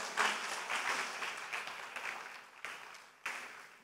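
A church congregation on a communion Sunday claps together, a burst of applause that swells quickly and then thins out into a few scattered late claps.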